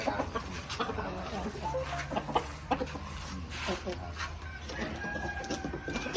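A Burmese-Thai crossbred fighting rooster clucks in short bursts nearby while someone talks over it, with scattered bird noises in the background.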